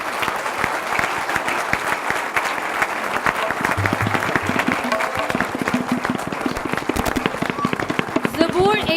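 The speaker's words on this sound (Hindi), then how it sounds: "चर्च कमेटी को और कलीसिया को और तमाम बच्चों के पेरेंट्स को हम तालियों की गूंज में वेलकम करते हैं।" Lively applause from the congregation and parents at a church Christmas program, many hands clapping in a continuous, crackling burst that stays strong throughout.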